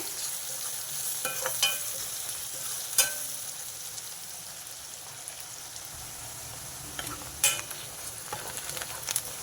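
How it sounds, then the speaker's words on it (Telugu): Sliced onions frying in a pan for a mushroom masala curry, a steady soft sizzle with occasional scrapes and clinks of stirring, close and continuous, with no talking. "మనం సన్నగా కట్ చేసి పెట్టుకున్న ఉల్లిపాయలు వేసేసుకున్నా ఈ ఉల్లిపాయలు ఎర్రగా వేయగాలండి"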